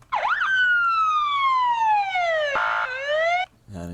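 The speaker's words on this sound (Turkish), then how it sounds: "Siren de şöyle" A loud electronic siren in an MTA roleplay video game wails with a long, slowly falling tone, a rapid yelp burst, then another sweep before cutting off abruptly.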